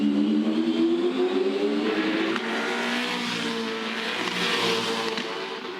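V8 Supercars race cars, including a Ford Falcon, scream past at the Townsville circuit, their engines' high, loud tones rising and falling as cars pass, with wide track roar and no talking.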